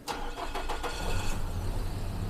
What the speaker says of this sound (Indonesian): Ini kita starter.